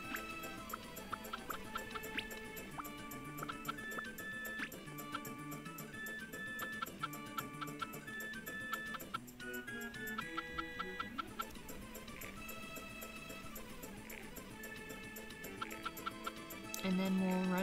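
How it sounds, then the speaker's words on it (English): Chickens cluck steadily in the video game Harvest Moon 64, over a background of soft game music, with occasional chimes and a brief louder clatter near the end. "let's take care of our chicky birds."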